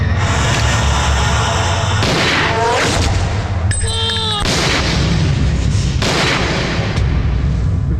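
Gunfire in a Telugu comedy film scene, loud booming shots layered with ringing metallic tones and a dense soundtrack that stays intense throughout.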